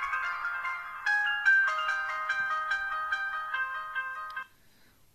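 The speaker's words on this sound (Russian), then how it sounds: "такая замечательная музыка у нас играет при включении и выключении данного телефона" Nokia G8 phone playing its power on/off melody: a bright, clear ringtone-like tune of bell-like notes, loud and close for about four and a half seconds, then ending abruptly into quiet.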